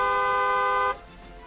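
A car horn gives one steady, loud, close honk that lasts under a second and then cuts off sharply, leaving low background noise.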